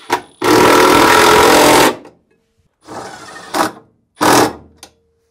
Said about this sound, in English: Then reinstall the two mounting screws.